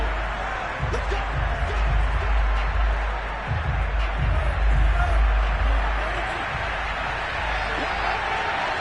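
Stadium crowd noise from the Madden 22 football video game, Seahawks at Jaguars, a steady roar with swelling shouts during a replay, mixed under continuous background commentary-like murmur.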